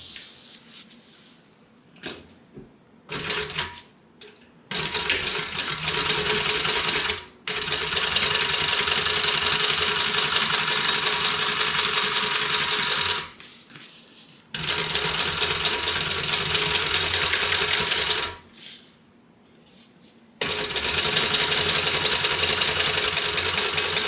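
A sewing machine runs steadily while top stitching a tote bag. Its motor whirs through several long continuous runs separated by short pauses, loud and close, with no talking.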